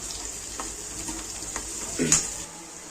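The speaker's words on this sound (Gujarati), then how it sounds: "લગભગ હવે ડુંગળી સતળાઈ ગઈ છે" Chopped onions and green chillies fry in a pan, giving a soft continuous sizzle with light stirring scrapes and a small clink near the end.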